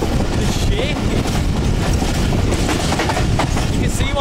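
Pakistani passenger train rattling and shaking along the track, a loud continuous clatter of wheels and carriage noise with faint squeals, voices talking beneath it.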